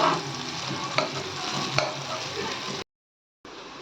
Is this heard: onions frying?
yes